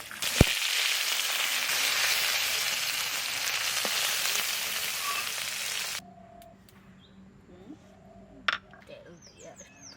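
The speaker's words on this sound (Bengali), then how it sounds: "মাছ ভাজাটা কি সুন্দর গন্ধ বাইরে হয়েছে।" Sea tangra fish frying in a pan, a dense sizzle at fair loudness for about six seconds, then a quieter stretch with faint clinks and chirps.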